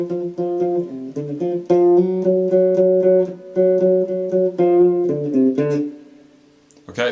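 The second phrase of a song's solo is played on guitar: punchy, palm-muted, alternate-picked single notes in quick rhythmic runs, with short slides and a brief pause before the final note.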